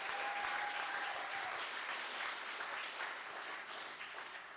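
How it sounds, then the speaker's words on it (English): Audience applause for the Ferny Grove State High School team at a national grand final, a steady dense clatter of many hands that holds fairly even for several seconds before tapering slightly. "I'd love to give a massive round of applause to our second Team of the Year"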